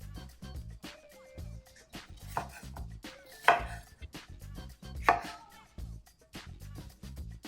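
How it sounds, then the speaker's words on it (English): A knife chops half a red bell pepper into chunks on a cutting board, with quick repeated taps in an uneven rhythm, close and fairly quiet, plus a couple of louder knocks. "we're going to start out by de-seeding and chopping into chunks 1/2 of a red bell pepper"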